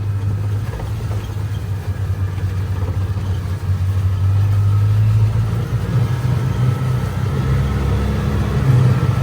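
A budget side-by-side UTV engine drones at a low, steady pitch while riding, swelling as the throttle opens, with constant rumble and no speech.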